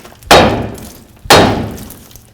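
A hammer strikes a steel steering knuckle twice, about a second apart, to free the outer tie rod end on a 1988–2002 GMC Sierra pickup. Each blow is a loud, sharp, close metallic bang that rings out and fades slowly.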